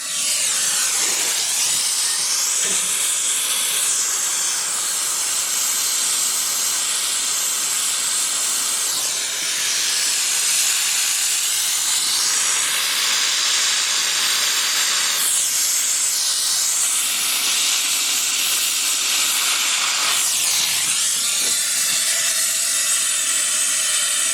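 A gas torch heating a copper fuel tank and bung for soldering gives a loud, constant roaring hiss that lasts throughout, with slow swells in tone as the flame moves over the metal.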